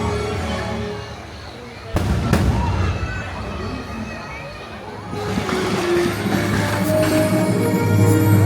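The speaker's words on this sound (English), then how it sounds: "Racing to the fireworks." A fireworks show at Magic Kingdom, Walt Disney World, with sharp bursts and booming explosions at a moderate distance. It builds into a busier rumble toward the end, and a crowd murmurs and people talk throughout.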